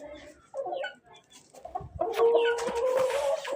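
Chickens cluck in a village, first sparse and quiet, then a busier, louder stretch of overlapping clucks and squawks close by.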